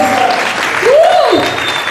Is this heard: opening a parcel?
no